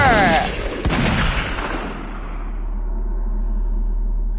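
Loud gunshots and a heavy blast ring out from a scene in the film Krrish, with sharp bangs in the first second fading into a long decaying rumble and low hum.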